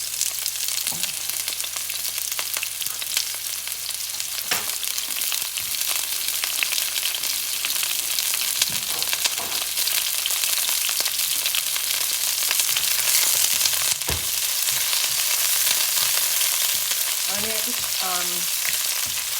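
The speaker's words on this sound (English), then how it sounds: "I'm gonna go ahead and put my onion in. And garlic." Onion and garlic fry in a pan for a Jamaican brown stew fish, giving a steady, close sizzle that runs the whole time with occasional stirring scrapes and clinks.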